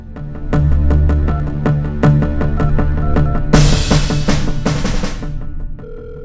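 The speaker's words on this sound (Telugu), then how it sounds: "Phone lift చేయడేంటి?" A telephone rings unanswered with a steady, repeating electronic ring pattern, loud and close, continuing alone for several seconds before cutting off.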